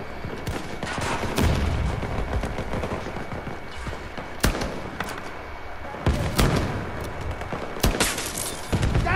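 Battlefield 2043 team deathmatch gunfire, rapid sharp shots and bursts in close succession with heavy booms mixed in, loud and near, with a player's voice briefly heard among the shooting.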